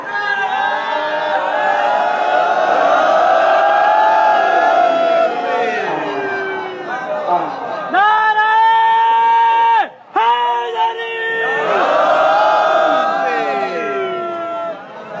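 A large crowd at a religious gathering in Kot Diji, Sindh, roars back a chanted religious slogan in response. Loud, massed voices rise and fall in long sustained waves, with a brief break before the chant surges again.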